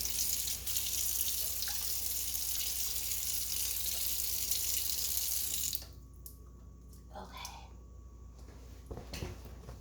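Tap water runs steadily while shampoo is rinsed out of natural hair, a loud broadband rush that cuts off abruptly partway through, leaving quiet drips and small splashes.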